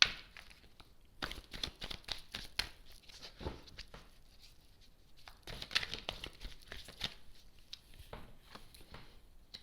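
Tarot cards are drawn and handled close up, soft papery shuffling, slides and crinkly snaps coming in quick irregular bursts with quiet gaps.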